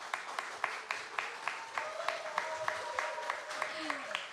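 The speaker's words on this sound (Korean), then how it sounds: "박수 한번 주시고요" An audience at a Korean game-creation audition event claps in a steady, regular rhythm, the sharp slaps evenly spaced over a faint sustained tone and low room murmur.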